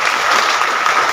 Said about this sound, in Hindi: मैं चाहूँगा कि डॉक्टर विजय पाल सर के लिए जोरदार ताली होनी चाहिए।